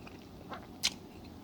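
A bite into a Cuban sandwich on light, slightly crunchy bread gives one short, sharp crunch amid quiet room tone, with a fainter chewing sound just before it.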